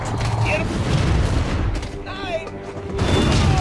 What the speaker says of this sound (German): Warum explodiert da direkt alles?